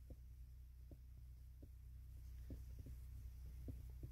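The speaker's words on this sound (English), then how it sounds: "Oh, the generator's on. I hear it." A generator runs somewhere nearby as a low, steady hum with faint periodic thumps, quiet and continuous with no talk.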